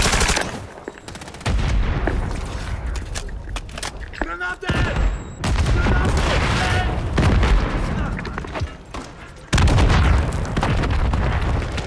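Bursts of gunfire and booming blasts from a military shooter video game, loud and dense, with several heavy impacts and radio-style voices talking over the action.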